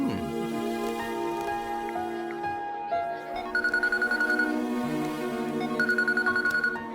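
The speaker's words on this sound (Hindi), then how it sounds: "हे, ऐश्वर्या का फोन है" A phone rings in a Hindi-dubbed South Indian comedy film, its electronic ringtone repeating as a pulsing melodic pattern over background music, loud and close, with no voices.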